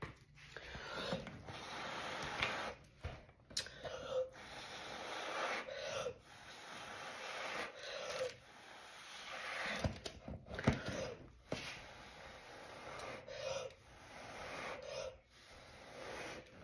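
Puffs of air blown hard through a straw onto opaque interference-pigment fluid art paint to make a bloom, giving repeated breathy rushing bursts close up, separated by short pauses, with no talk.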